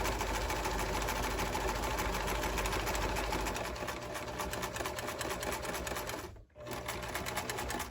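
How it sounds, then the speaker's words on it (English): A sewing machine stitches a seam with green thread on fabric for a garden pouf, running in a fast steady mechanical chatter close up and dipping briefly before continuing. "I'm going to continue with the green thread so that you can see my sew line."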